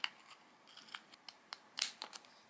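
Scissors snip through quilt fabric in a quiet room, a string of short crisp cuts at an uneven pace, close and soft.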